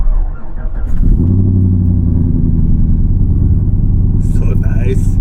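A truck engine fires up by remote start inside a garage, a sudden loud crank followed by a deep, steady idle rumble that echoes in the enclosed space, with a brief rattle near the end.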